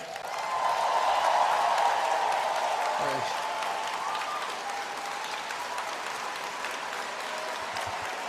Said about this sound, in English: how about a massive round of applause for someone who gave her farewell speech in the House tonight, Carolyn Bennett